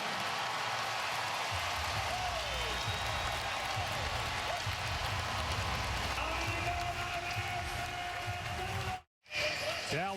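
Crowd noise fills a Dallas Mavericks home arena during a 2011 NBA playoff game against the Trail Blazers, a steady loud roar throughout with a commentator talking over it, briefly cutting out near the end.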